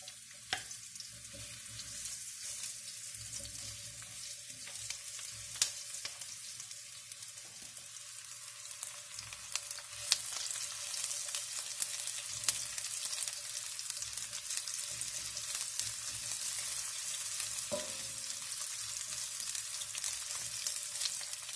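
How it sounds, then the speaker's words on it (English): Shallots sizzling in hot shimmering oil in a pan for a Veracruz-style cod dish, a steady close crackle and hiss with occasional pops and stirring clicks, no voices over it. "The oil is hot, so we're gonna go ahead. We're gonna go ahead and add the shallots."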